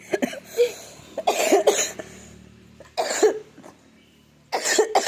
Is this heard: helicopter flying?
no